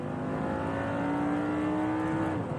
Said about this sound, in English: yes, that big, noisy, meaty, proper, old-fashioned V10